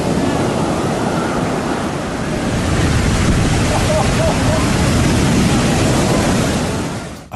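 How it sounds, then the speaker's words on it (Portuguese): Ocean waves crash with full force onto Lumahai beach on Kauai, a shore with no protective reefs. The surf makes a loud, steady roar that fills the whole stretch without a break. "as ondas do oceano chegam à costa com força total"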